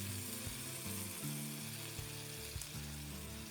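Skinless teriyaki salmon fries in a hot pan with a steady close sizzle, with faint hum and occasional stirring bumps underneath.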